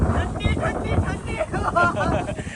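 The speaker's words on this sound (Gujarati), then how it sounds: "ટેબલ પોઈન્ટ ઉપર અત્યારે જોરદાર ઠંડો પવન છે" Strong cold wind buffets the microphone in gusty rumbles and roars at Table Point, Saputara, during the monsoon, with voices faintly audible underneath.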